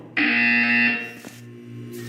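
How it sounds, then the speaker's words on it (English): A loud, harsh electronic buzzer from a wellness exercise in the Portal 2 video game sounds once for just under a second, then fades to a low hum. "You will hear a buzzer."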